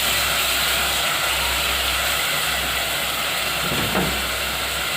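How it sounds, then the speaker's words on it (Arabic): Onions sautéing in a pan, a steady broadband sizzle that holds evenly throughout, loud and close, with a low hum beneath and no talking. "نفضل بقى نشوح في البصل لحد ما نوصل للون غامق كده شويه"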